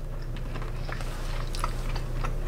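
Someone chews a chili hot peppermint Mentos up close, with soft, irregular squishy bites and small crunches over a steady low background hum. Nobody talks.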